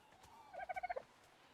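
A dodo in Ark Survival Evolved calls from a distance with a quick burst of about five rapid gobbling clucks, faint and brief, over quiet ambient game sound.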